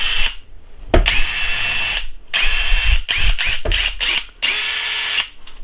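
A DeWalt 20V MAX DCF840 cordless impact driver whirs loud and close in several bursts of varying length, its high motor whine broken by short pauses and brief stuttering pulses.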